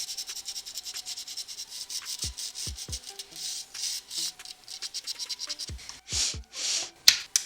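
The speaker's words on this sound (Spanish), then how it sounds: "La lijita lo mismo, a pasarle los pines al PCI." Sandpaper rubs rhythmically over the PCI slot pins of a Socket 775 motherboard, a series of close, soft scratching strokes with a few sharper taps and knocks mixed in.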